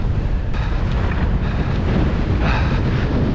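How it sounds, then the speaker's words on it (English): Strong wind buffeting the microphone on a steep mountain bike trail in Mabie Forest, a loud continuous roar of rumbling gusts with no talking. "Jesus, that wind."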